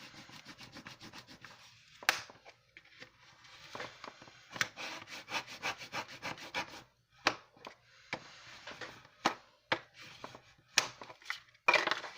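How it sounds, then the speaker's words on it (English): A spatula smooths paper down over a toilet paper roll pocket craft, giving soft, close rubbing and scraping strokes in irregular bursts with short pauses between, quiet overall and with no talking. "So I'm going to go ahead and get the spatula, smooth it down real well."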